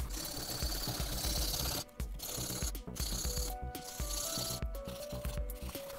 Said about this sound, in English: I'm gonna sand down this little nub.